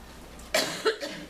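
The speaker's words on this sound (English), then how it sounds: "I might cough a little bit here." A couple of short, sharp coughs from a person with a cold, in quick succession, close and fairly loud, over a quiet room background.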